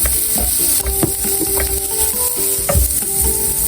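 Kiniing, a smoked cured pork, sizzles and crackles loudly in hot oil in a pan, with steady frying hiss broken by sharp spits, pops and stirring scrapes close by.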